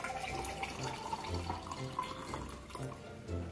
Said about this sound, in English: pour it into our beautiful glass